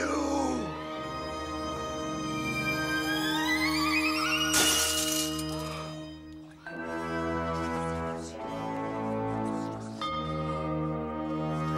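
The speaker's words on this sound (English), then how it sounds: "Glass break, sir." Glass shatters as a cartoon sound effect in an animated Batman series, a sudden bright loud crash over a sustained ringing musical score, followed by lingering resonant tones.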